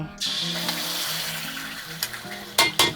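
Yen ta fo sauce sizzles and fries in hot garlic oil in a wok, with brief clatters of stirring near the end; a steady crackle throughout.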